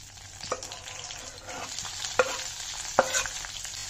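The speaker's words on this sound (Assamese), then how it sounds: "অলপ ভাজি লওঁ আৰু পিঁয়াজ কেঁচা জলকীয়াটো" Onions and green chilies sizzle steadily in hot oil, punctuated by a few sharp scraping clinks of a spatula stirring the pan.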